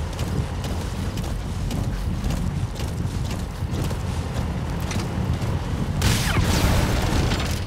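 Horse hooves gallop in Metal Gear Solid 5, a steady dense drumming of clip-clop over a continuous low rumble, growing slightly louder and harsher toward the end.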